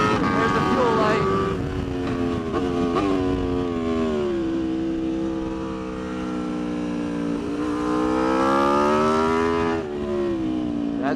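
An Aprilia RSV4 RF superbike ridden hard on track gives a loud, close engine howl that drops in pitch through a corner, then climbs again with rising revs and a quick shift near the end.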